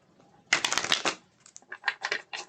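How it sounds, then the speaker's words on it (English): Tarot cards being shuffled by hand: a dense burst of crisp riffling flutter, then several shorter papery shuffles in quick succession, close and fairly loud, with no talking. "But I'll shuffle these cards."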